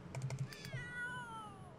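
A cat meows in The Sims 3, a short run of quick mews followed by a longer drawn-out wavering cry, soft and close with faint tapping beneath.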